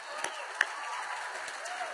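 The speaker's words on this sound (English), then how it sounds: "Everybody give Leah a round of applause." Soft, distant audience applause, a thin steady patter of many hands clapping with a couple of sharper claps standing out, heard at an indoor presentation.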